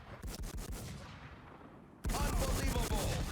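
Rapid automatic gunfire in a shooter game crackles in dense bursts, fading quieter before a loud, sustained volley erupts abruptly and continues to the end, with no speech.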